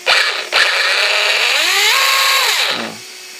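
A brushless-motor Maximus RC car whines loudly as it accelerates, its pitch sweeping upward then dropping away as it slows, with two brief bursts at the start and the sound fading out at the end.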